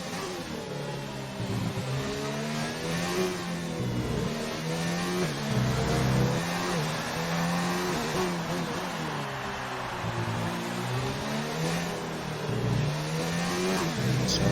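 Formula 1 cars circle the Singapore circuit on an out lap in a racing video game, engines whining and revving in rising and falling sweeps, a steady mid-loud drone that shifts pitch as they accelerate and lift.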